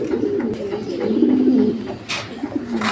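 Lahore fancy pigeons cooing close by in a loft, low throaty rolling coos repeating over faint background noise.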